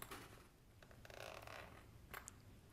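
A zipper on a golf bag pen stand is slid open or shut in a quiet room, giving a faint, soft rasping run with a few small ticks.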